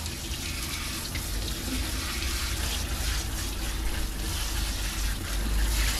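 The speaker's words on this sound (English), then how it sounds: "First of all, soak them real good with water so the" Steady running water pours over a long-neglected, mud-caked dog being soaked during a grooming bath, a continuous close hiss and splash that stays even throughout with no talking.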